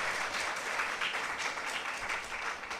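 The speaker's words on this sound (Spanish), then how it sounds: "Y ese aplauso también así con energía para todos ustedes que nos acompañan." A dense, steady wash of applause from a large conference audience, continuous and fairly loud throughout with no voices standing out.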